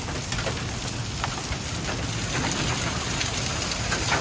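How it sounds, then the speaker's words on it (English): Heavy rain pours and hail pelts the ground during a severe thunderstorm in Edwardsville, Illinois, a dense, close, steady roar dotted with sharp impacts. "Oh, there's some big-ass chunks of hail going on."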